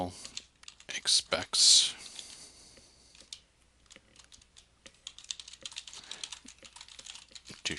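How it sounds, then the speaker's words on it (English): Typing a note on a computer keyboard, a run of quick close key clicks and taps, louder at first and then lighter and scattered, with someone speaking briefly. "If I click the Add Note button, the system prompts me to type in a note."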